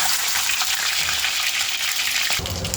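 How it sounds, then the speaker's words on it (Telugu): Eggs frying in hot oil for a Telugu egg curry fry give a loud, dense, steady sizzle up close that runs throughout, shifting slightly near the end. "ఆయిల్ హీట్ ఎక్కిన తర్వాత ఇలా ఎగ్స్ అన్నీ వేసుకుని ఫ్రై చేసుకున్నాము."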